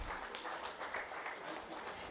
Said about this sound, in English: A round of applause for all our distinguished panelists.